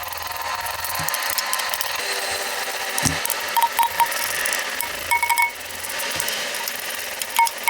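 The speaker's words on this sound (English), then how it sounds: "So when you're tightening up these bolts" A ratchet tightens the bolts on a car's transmission pan, with rapid clicking bursts between short pauses and a few sharper metallic ticks, close by and with no speech.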